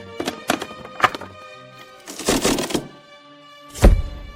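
Axe chopping wood in a forest, with several hard, distinct thunks in an uneven rhythm, a rustling burst in the middle, then a final heavy crash, close and clear with no talking.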